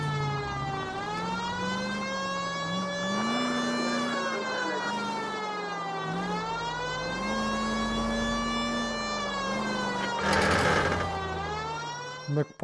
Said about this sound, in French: Mec pas trop discret avec la sirène